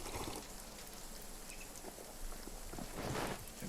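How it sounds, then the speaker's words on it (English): Rain falls steadily in the video game RuneScape: Dragonwilds, a soft continuous patter of drops on surfaces at low volume, with no voices over it. "Of course it's raining."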